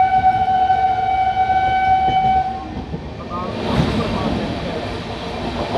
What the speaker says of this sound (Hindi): आपको क्रॉसिंग दिखाते हैं अपनी पतालकोट सुपरफास्ट की